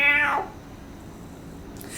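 A palace cat lets out a single loud, sharply falling meow at the start, then goes quiet, leaving only faint low room noise for the rest of the moment.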